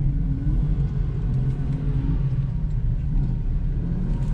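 A 2019 Jeep off-road rig rumbles nearby at an off-road park, a deep continuous engine drone with slight swells in pitch, steady throughout with no voices.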